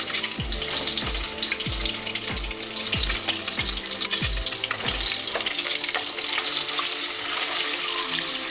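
Boiled eggs spluttering loudly in hot oil for prawn curry, a dense close crackle and sizzle throughout, with a steady repeating low thump in the first half that fades out.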